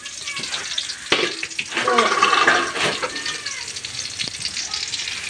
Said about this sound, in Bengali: পেঁয়াজ রসুন দিয়ে দিচ্ছি তেলের মধ্যে শুকনা মরিচ চারটা দিয়ে দিচ্ছি